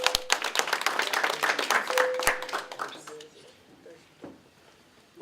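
Audience applause for the general secretary of the National Union of Metalworkers of South Africa at a contract announcement, a burst of scattered claps that thins out after about three seconds, followed by quiet room sound and a voice at the end.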